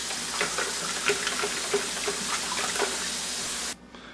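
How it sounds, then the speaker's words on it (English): Cold water pours into a pitcher of freshly made sweet tea with a steady, fairly loud splashing gush that runs for several seconds, then stops abruptly near the end. "And then I just add some cold water."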